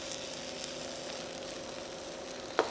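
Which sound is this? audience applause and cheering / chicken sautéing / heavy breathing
chicken sautéing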